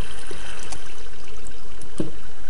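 Steady flowing water in Minecraft makes a continuous loud trickling stream. A few faint clicks and soft taps sit over it, and no talk is heard.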